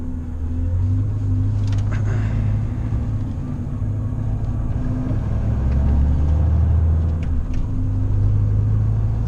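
A heavy Volvo FM truck engine drones steadily with low rumbling and tonal hum, heard from inside the cab on the move in Sweden, with no talking.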